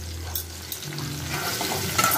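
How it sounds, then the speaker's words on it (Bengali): Potatoes seasoned with salt and turmeric fry in hot oil in a wok, a steady close sizzle with stirring scrapes, growing louder toward the end. "তেলের মধ্যে এবার আমি আলুগুলোকে ভেজে নেব"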